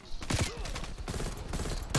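Rapid bursts of gunfire in the video game Call of Duty: Cold War, loud and dense, mixed with game effects and a voice talking over it.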